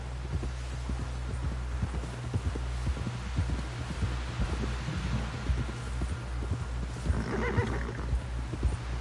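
A video game horse snorts and whinnies over steady rhythmic hoofbeats and a low droning hum, the clopping continuous throughout.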